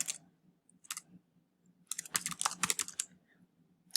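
Bursts of keystrokes on a computer keyboard, a short tap run early, a single burst near one second, then a dense fast flurry of typing, close and clear over a faint low hum, with no voices.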